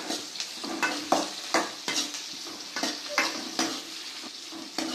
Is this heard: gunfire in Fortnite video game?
no